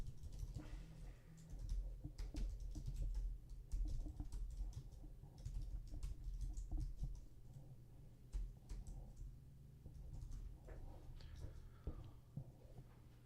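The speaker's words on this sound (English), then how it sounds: "I'll just type it into the chat." Typing on a computer keyboard: a steady run of close, soft key clicks over a low background hum, continuing throughout.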